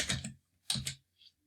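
Quiet bursts of computer keyboard typing, two quick clusters of clicking keystrokes followed by a single faint tap.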